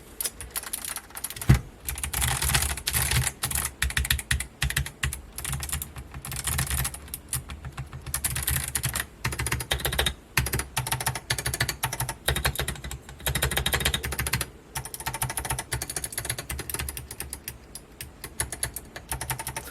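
Continuous fast typing on a custom mechanical keyboard built from Lego pieces, with no stabilizers. Dense, close, clattering keystrokes in a steady stream with brief pauses, heard alone without speech.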